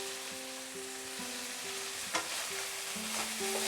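Small kachki fish and potatoes fry in a pan, giving off a steady close sizzle while a spatula stirs them with a few scraping strokes.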